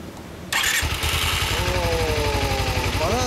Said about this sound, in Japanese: エンジン音聞かせてください。